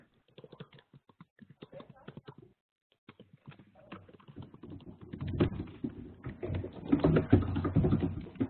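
Computer keyboard typing: scattered quick clicks and taps at first, faint and close, then a louder muffled rumble of activity builds underneath as the keystrokes continue.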